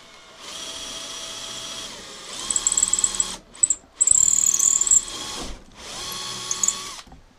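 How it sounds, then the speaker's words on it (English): A power drill whirs in several bursts, spinning up and cutting in with a rising high-pitched whine, separated by brief pauses. "I'm drilling a hole in my finger."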